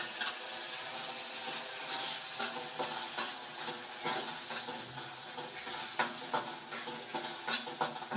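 Ground masala paste frying in a pan for egg curry, a continuous crackling sizzle with repeated scraping stirs of a spoon against the pan, close and moderately quiet.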